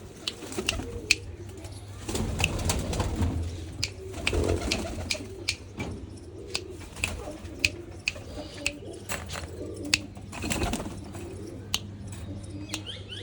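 Pigeons coo steadily in low, rolling calls, close by, with repeated sharp tapping clicks and light rustling through the clip.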